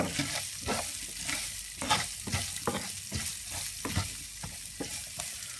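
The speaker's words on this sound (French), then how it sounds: "et on va venir verser ail, oignon, gingembre. Vas-y, verse-le, sans le faire tomber. On mélange bien la préparation" Garlic, onion and ginger stirred as they fry in a pan, with a steady sizzle broken by repeated scraping strokes of a spoon at an irregular rhythm, close and moderately loud, no talking.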